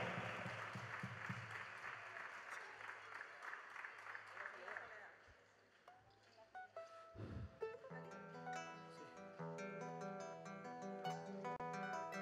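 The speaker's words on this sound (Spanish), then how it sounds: "Un aplauso fuerte." Audience applause at a concert, a dense wash of clapping for about five seconds that fades out, followed by instruments starting to play.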